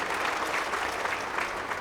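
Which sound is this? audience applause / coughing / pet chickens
audience applause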